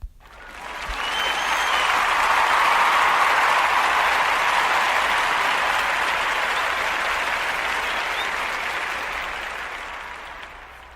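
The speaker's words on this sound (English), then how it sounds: "big round of applause to Rick Scott, the governor" A big round of audience applause for the governor at a live show, quickly swelling to a full, dense roar of clapping, holding steady, then slowly tapering off near the end.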